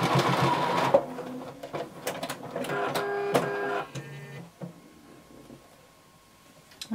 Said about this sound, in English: And then you're going to leave a 2-inch opening. And you're going to backstitch. And sew all the way up.